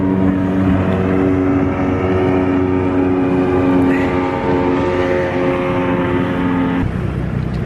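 Motorboats speeding through shallow water near Wavebreak Island, their engines droning loudly and steadily at close range, with a sustained hum whose pitch shifts slightly as they pass.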